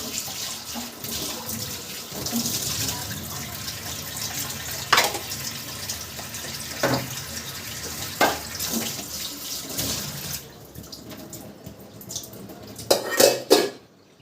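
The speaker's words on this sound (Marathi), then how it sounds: "आता सगळे भांडे वगैरे घासून" Dishes and pots scrubbed and rinsed under a running kitchen tap, with steady water flow, clinks of utensils and metal pans, and a quieter stretch near the end followed by several sharp clatters.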